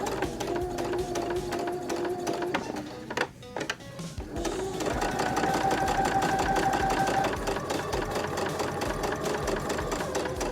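A sewing machine stitching a fabric bow runs in a steady mechanical whir, pauses briefly mid-way with a few clicks, then resumes at a slightly faster, even pace, close and alone.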